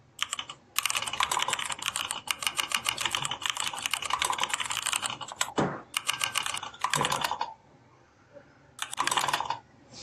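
Rapid, dense typing on a computer keyboard during a coding session, a close continuous clatter of keystrokes broken by a few short pauses and louder single key hits, with no talking.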